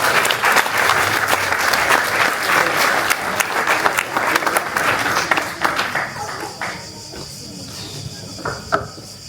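Audience applause at a fashion show, a dense, loud wash of clapping from a crowd that thins out and fades toward the end, leaving scattered claps and light hiss.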